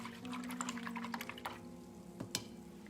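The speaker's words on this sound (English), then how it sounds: "I'm gonna go ahead and wash out my mama brush." A paintbrush is rinsed and swished in a cup of water during acrylic painting, giving faint close patters, light knocks and small splashes with no talk.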